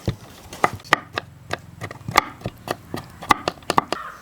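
A knife chops ripe papaya into small pieces on a board, a steady run of close, sharp taps with brief pauses between strokes.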